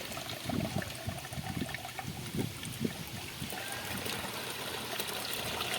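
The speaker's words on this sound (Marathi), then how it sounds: "अशा प्रकारे सर्व चीक या ठिकाणी गाळून घेणार आहोत" Starchy liquid poured through a strainer in a home kitchen, producing a steady, continuous trickle and dribble of liquid close by with faint scattered splashes, and no voices.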